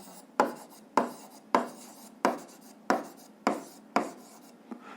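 A pen writes a physics formula on paper or a board, giving seven evenly spaced scratchy strokes, each a sharp onset fading quickly, close and fairly loud with no talk.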